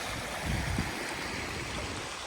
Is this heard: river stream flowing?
yes